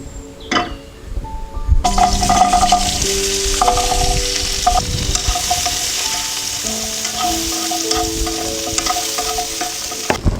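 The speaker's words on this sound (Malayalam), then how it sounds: "അപ്പോൾ പാൻ അടുപ്പത്ത് വെച്ച് നമുക്ക് അതിലേക്ക് ചെറിയുള്ളി ഇട്ട് കൊടുക്കാം." Small onions (shallots) fry and sizzle steadily in a pan on the stove, with repeated stirring scrapes and light clinks of a utensil against the metal throughout, loud and close with no talking.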